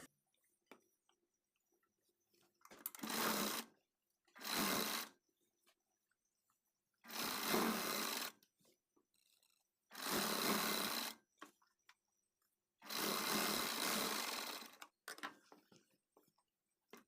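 A sewing machine stitches fitting darts on a readymade kurti in five short bursts of whirring. Each burst lasts about a second, separated by quiet pauses, and sounds close and moderately loud.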